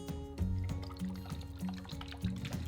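Fish sauce poured into a satay sauce base of peanut butter and soy sauce, a soft close liquid pour with light gurgles and dribbles, no voices.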